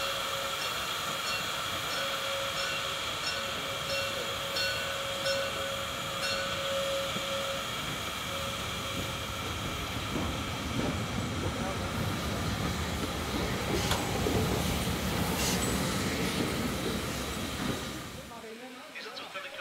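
A steam locomotive train rolls past with a continuous rumble and rhythmic clatter of wheels, loud and close, then fades abruptly near the end.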